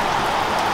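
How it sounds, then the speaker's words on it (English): Heavy rain pours down steadily on an open camping area just off a road, a dense, continuous hiss with no pauses and no voices. "the rain at the moment is getting just heavier and heavier"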